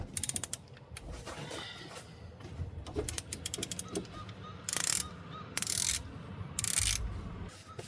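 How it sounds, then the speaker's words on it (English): A ratchet on an Allen head socket loosening a cam bolt on a Hummer H3 during a timing chain job: bursts of rapid clicking ratchet pawl, metallic creaks and tool clanks, close and fairly quiet. "we should be able to put Allen head socket on there and loosen it up"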